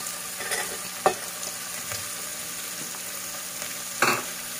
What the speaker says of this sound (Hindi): उसके बाद हम इसको अच्छे से फ्राई करेंगे।